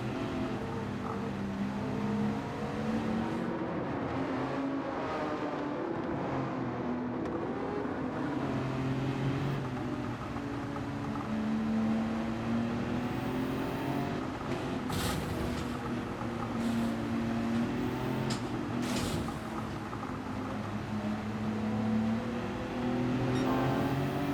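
Race cars in Gran Turismo 7 roar continuously in a close battle, engines droning and shifting pitch as they rev and change gear, with several cars audible together.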